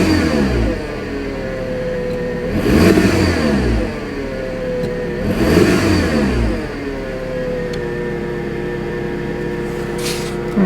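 A 1995 Mitsubishi Expo engine runs at a high idle, a steady close mechanical hum with two brief louder swells of revving.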